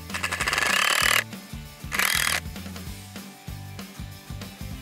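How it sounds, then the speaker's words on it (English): A power driver screws a pipe hanger into material, sounding as a loud, close, stuttering motor buzz in bursts with a rhythmic low pulsing, easing off toward the end. "Simply screw in the pipe hanger to your material."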